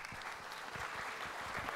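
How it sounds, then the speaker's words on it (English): An audience claps steadily at a public forum on finding jobs, the dense applause holding at an even level for the whole stretch without voices breaking through. "I think clapping after every question would be a waste of time."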